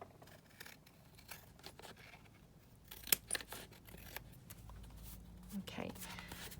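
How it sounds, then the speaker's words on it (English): Scissors trim paper for a Halloween junk journal, with a few close, soft snips and rustles at low level, while a person talks quietly throughout. "So I'm just going to trim that off here."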